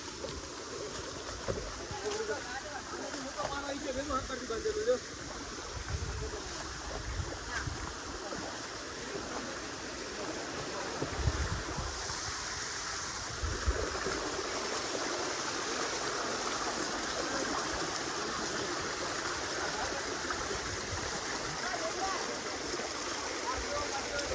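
Rushing water streams across a road in the monsoon hills near Datar, a steady broadband wash that holds for the whole stretch, with a voice talking over it at times.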